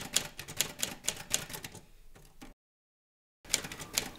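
Rapid clacking of typewriter keys in a late-night writing session with pen and paper, dense irregular strikes close up, a brief lull and then total silence before the typing resumes just as busily.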